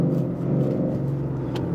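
Ford Mustang with an upgraded clutch and clutch spring downshifting, a steady close engine rumble from inside the car with a low drone throughout.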